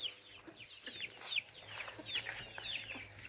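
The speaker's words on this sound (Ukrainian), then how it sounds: "Або сама квочка. Вона веде своїх курчат постійно." A brood of chicks peeping in quick high bursts over a low, soft clucking hen, gentle and continuous at moderate distance.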